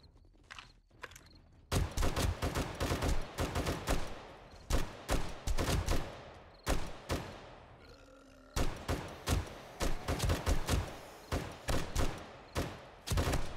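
Gunfire in 7 Days to Die, loud close shots fired in quick repeated bursts, with a short pause partway through before the firing resumes.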